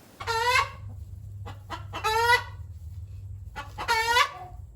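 Hens cluck in a backyard coop in three short, close bursts of throaty calls separated by brief pauses, over a low steady hum.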